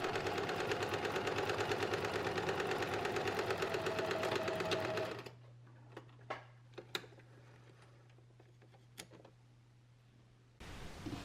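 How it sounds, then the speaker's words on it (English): A domestic sewing machine runs steadily for about five seconds, stitching the side seam of a garment with inseam pockets, then stops, leaving a low hum and a few scattered clicks and taps. "Lower the presser foot and finish sewing the side seam."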